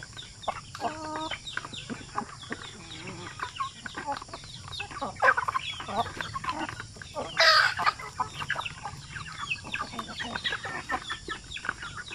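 Native chickens clucking in a farmyard, a stream of soft overlapping clucks and calls with one brief louder squawk midway, close with faint background noise.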